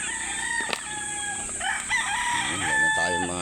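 A fighting stag rooster crows loudly nearby in one drawn-out call, with other fowl clucking and faint background noise around it.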